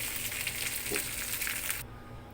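Mint leaves fry in oil in a pan with a steady, close hiss and sizzle that cuts off abruptly near the end.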